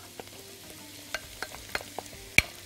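Swiss chard goes into a pan of frying garlic and gets stirred, giving a soft background sizzle broken by sharp close clicks and scrapes of a utensil against the pan.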